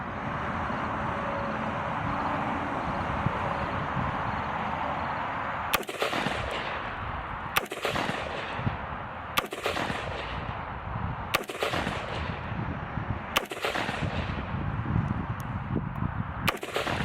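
An AR pistol with a PSA lower fires Tula steel-case ammunition outdoors in a slow series of about six loud, sharp shots spaced a second or two apart, each followed by a ringing echo tail, with no talking.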